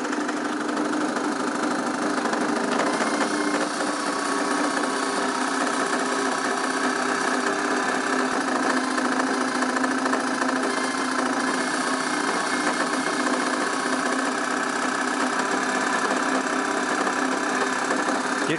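A permanent magnet brushless DC motor running at 1000 RPM, a steady mechanical hum with a faint ticking vibration, continuous and close.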